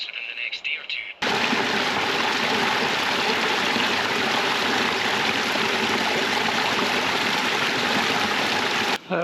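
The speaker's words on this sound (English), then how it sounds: "Nice fast running burn there" Fast-running burn in the Scottish hills, loud broadband rushing water that starts abruptly after a brief quieter moment and continues steadily up close without a break.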